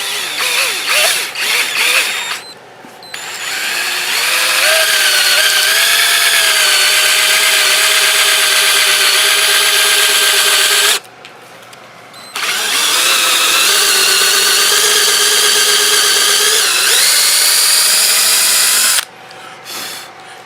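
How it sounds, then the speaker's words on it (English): A power drill bores into an acrylic sheet for an LED sign in long, loud, steady whining runs, the pitch wavering under load, separated by short pauses, with no talking. "make sure you keep your drill level so it doesn't go in at an angle like this"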